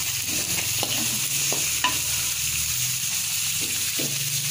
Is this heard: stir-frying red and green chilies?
yes